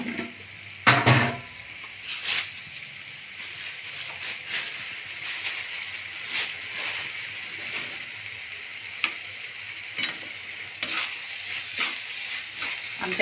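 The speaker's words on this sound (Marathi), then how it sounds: "त्यामध्ये थोडंसं फ्राय करून घ्यायचं मोठ्या गॅसवर, जेणेकरून तांदळाला पण एक छान अशी टेस्ट येते" Rice fried in a pan over a high flame for tomato rice gives a steady close sizzle, broken by sharp stirring scrapes and clinks of the spatula.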